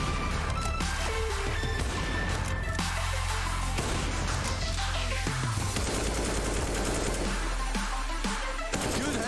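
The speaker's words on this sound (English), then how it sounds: "Good headshots out of Rouse." Rapid gunfire from Counter-Strike in a professional ESL Pro League esports match, with dense bursts and loud, continuous shots layered over game effects and music for the whole stretch.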